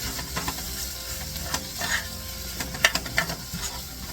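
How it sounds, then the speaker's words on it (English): Onions frying in a pan give a steady, close sizzle, broken by a few clinks and stirring scrapes near the end. "So I'm just gonna let these onions soften up"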